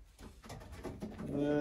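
A pigeon coos softly and close by, a low throaty call rising near the end, with quiet background noise.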